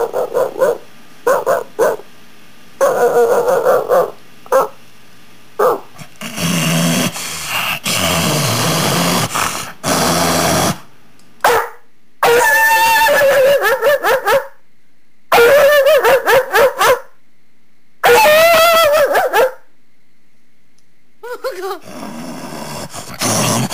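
A human voice imitates a dog, starting with faint distant barks and building to loud, close snarling, growling and frantic barking as if attacking, in repeated bursts separated by brief silences, with no speech.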